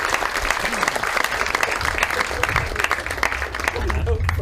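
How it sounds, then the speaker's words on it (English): An audience at a history lecture gives a loud, dense round of applause that holds steady throughout, with some voices mixed in. "Let's give him a big round of applause."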